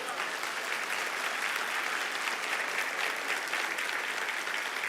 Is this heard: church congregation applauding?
yes